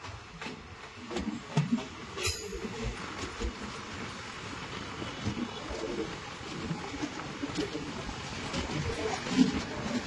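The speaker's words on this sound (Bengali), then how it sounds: "আমাদের ট্রেন ছেড়ে দিল new Farakka junction railway station." Kanchenjunga Express pulling out of New Farakka Junction station, a steady broadband rumble of wheels and carriages with faint birdsong and a brief sharp squeal, rolling on continuously throughout.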